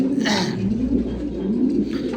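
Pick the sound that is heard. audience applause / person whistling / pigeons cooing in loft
pigeons cooing in loft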